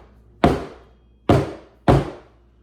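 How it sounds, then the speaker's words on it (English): A cake pan filled with pound cake batter is banged on a kitchen counter three times, each a sharp, close thunk with a brief decay, evenly spaced and alone. "we're going to go ahead and bang the pan on the counter a few times just to get rid of any air pockets"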